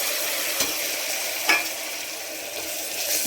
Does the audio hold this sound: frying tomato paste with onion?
yes